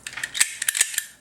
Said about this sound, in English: You stick the little needle part into the keyway and pull the trigger on it, and it pops the pins up